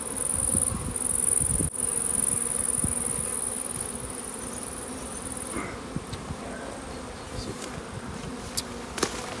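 Honeybees buzzing around an open beehive during a hive inspection, a dense, loud, continuous swarm hum close by, with a high steady whine in the first half and a few light knocks later.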